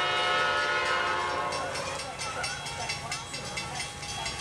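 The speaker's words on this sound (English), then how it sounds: "There is actually a train this time." A train rolls through a railroad crossing with its horn sounding, steady loud rumble and clatter of rail cars filling the whole stretch, with a voice talking briefly in the background.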